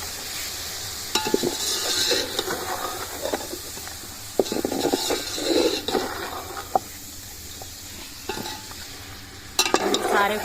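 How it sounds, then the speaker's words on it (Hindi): Chicken pulao masala and spices are stirred and roasted in a pot over a village wood fire, with irregular spoon scrapes and clatters over a steady, moderate sizzle and hiss. "सारे को मिक्स करके मसालों के साथ भून लेंगे थोड़ी देर"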